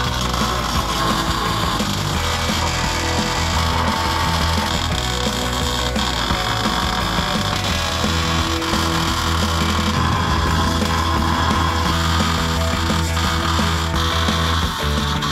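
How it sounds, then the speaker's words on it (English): Close-quarters welding on a Suzuki Samurai front driveshaft, a continuous loud crackling buzz that carries on steadily for the whole stretch with slight shifts in tone. "Now's the time to do our close quarters welding."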